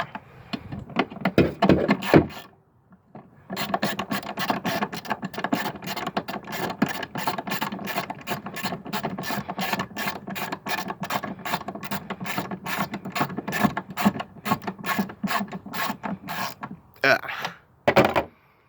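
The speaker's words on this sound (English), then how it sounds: "And you just gotta tighten these screws up. I use a long extension so I can have freer motion on my hand." A ratchet on a long extension tightens 10 mm screws on a Saturn during a coolant leak repair, clicking in a long, steady run of rapid pawl ticks, close and fairly loud, with a brief pause after a short opening burst.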